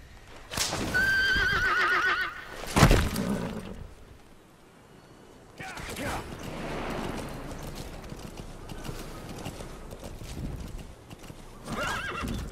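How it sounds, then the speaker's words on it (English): Horse hooves clip-clop and a horse whinnies in the stealth game Metal Gear Solid V: The Phantom Pain, loud and close at first, with a sharp burst near the third second, then a steadier, quieter gallop under game ambience. "This is where I go ahead and speed up the horse."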